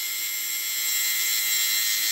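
Small electric lint shaver running, a thin high-pitched whine with a faint steady buzz, continuous and close with nothing else heard.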